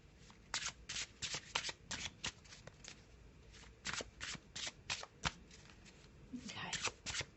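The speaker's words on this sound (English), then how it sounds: "just having a bit of a shuffle," A black-and-white tarot deck shuffled by hand at close range: rapid bursts of riffling card flutter repeating in quick succession, with brief quiet gaps between shuffles and some low talk.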